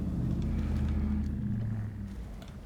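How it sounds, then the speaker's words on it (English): A truck rolls past on a road outside, a steady low rumble that holds loud for about two seconds and then eases slightly as it moves off, with no talking. "I'm sure you heard that truck."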